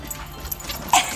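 A female dog whimpers and yips excitedly on being found after hiding, a few short high whines close by, with one sharper squeal near the end.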